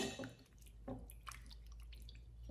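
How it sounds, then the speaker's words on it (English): Pickle brine drips from a jar of homemade refrigerator sweet cucumber pickles, a few faint separate drops and splashes over quiet room tone. "Whew, it's dripping."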